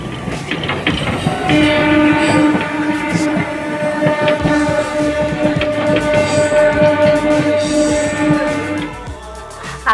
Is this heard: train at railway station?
yes